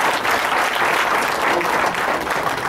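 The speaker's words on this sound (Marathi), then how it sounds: "आपण इकडा टाळी वाजवून स्वागत करा" Audience at a district meeting of office-bearers in a hotel clapping to welcome a guest, a dense, steady roar of applause from many hands throughout, close and loud with no voices standing out.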